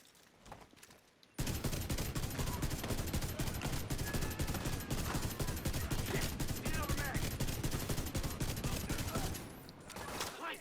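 Sustained automatic gunfire in the video game The Division 2 bursts in after a quiet second and rattles on loud and dense for about eight seconds before easing off, with a voice speaking faintly underneath.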